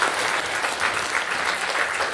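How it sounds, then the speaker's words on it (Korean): A church congregation applauds loudly during a Sunday worship service, a dense and steady wash of many hands clapping throughout, with no one speaking over it. "우리 한번 크게 박수 해주세요."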